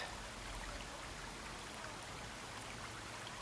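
Steady broadband rush of flowing water, like a stream with patter, continuous and even throughout with no voices.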